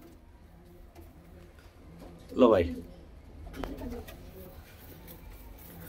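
A female Punjabi pigeon gives a single short coo, close and brief, between bits of someone talking, with quiet background ticking.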